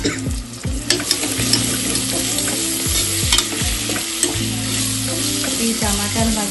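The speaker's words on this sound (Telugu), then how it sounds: "కొంచెం ఇది ఎర్రగా వేగనిద్దాం. ఆనియన్స్ వేగలేదు చూద్దాం." Onions frying in oil for goat head curry make a dense sizzle, with steady spoon scraping and clinks on top. Low tonal music plays throughout.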